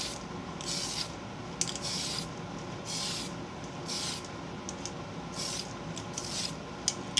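Spray primer hisses onto a model part in repeated short bursts, each puff close and rhythmic with brief pauses between, over a faint steady background hum.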